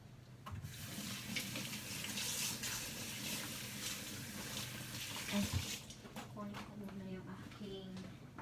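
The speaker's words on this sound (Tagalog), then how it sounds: "hand wash lang natin yung ano, yung bag kasi ayaw ni amo ilagay yan sa washing" Water runs steadily from a tap into a sink while a bag is washed by hand, splashing and sloshing continuously close by, with a voice talking over it at times.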